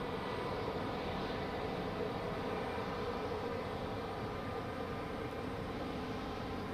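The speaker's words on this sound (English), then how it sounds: "It's a Helvetic Embraer 190" A Helvetic Embraer 190 at Zurich Airport produces a steady, fairly distant jet engine rumble and roar that holds evenly throughout without talk.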